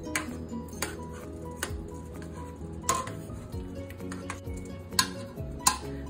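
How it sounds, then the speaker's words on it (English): Jasmine rice is stirred in a pot, with repeated clinks and scrapes of a utensil against the pot at an uneven pace over a faint kitchen background. "Now I'm gonna stir it up real good."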